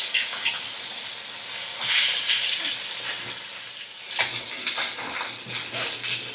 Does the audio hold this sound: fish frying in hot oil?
yes